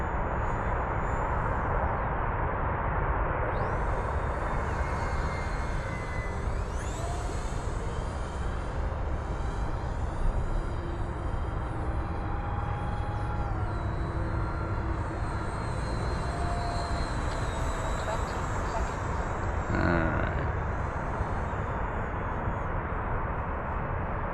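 A twin 40mm EDF remote-control Xfly SU-57 jet flies past with a steady, fairly loud electric ducted-fan whine and rushing air that rises and fades as it passes.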